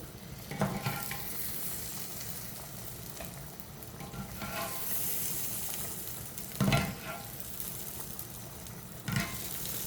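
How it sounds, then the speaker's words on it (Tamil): Egg curry gravy bubbles and simmers in a pan, a soft steady sizzle with a few sharp utensil scrapes and clinks against the pan at intervals. "இப்போ ஒரு நாலு நிமிஷமாக நல்லா கொதிச்சு கொண்டிருக்குது"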